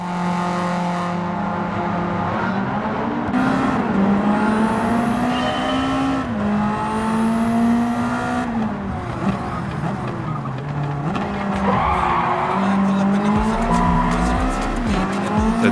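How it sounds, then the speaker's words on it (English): Supercars racing at Spa in the Gran Turismo video game, with engines revving up and down through gear changes, tires squealing and skidding, loud and continuous throughout. "now we're going to put her on track against some bad boys, some baddies, some supercars at Spa."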